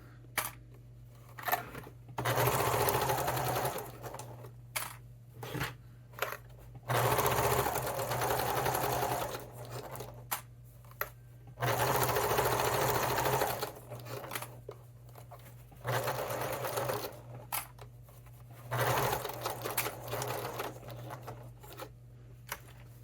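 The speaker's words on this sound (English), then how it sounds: "when I sew over this hanger loop, I also am going to go over it, back," A sewing machine stitches back and forth over the hanger loop of a Christmas stocking in several close, whirring runs of a few seconds each, separated by short quiet pauses.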